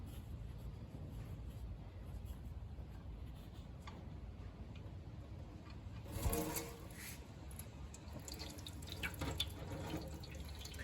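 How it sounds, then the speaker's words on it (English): Engine oil drains from the sump of a Subaru Outback after the plug is loosened, making a faint, steady trickle with soft dripping ticks throughout, in a quiet workshop with no talking. "And then we'll just leave that to drain for about 10 minutes."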